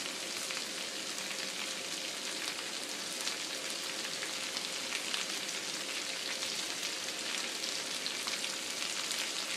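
Potatoes seasoned with pepper and homemade hamburger seasoning fry in a pan, giving a dense, steady hiss and crackle that stays even and close throughout with no talking.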